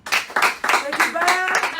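Brief clapping from an audience at a political livestream with a donation roll call, a few quick bursts of hands mixed with voices talking over it.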